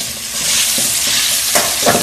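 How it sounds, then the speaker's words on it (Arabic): Chicken stir-frying in oil for fried rice, a loud close sizzle with a couple of sharp scraping stirs toward the end, no voices. "نشوح الدجاج بتاعنا."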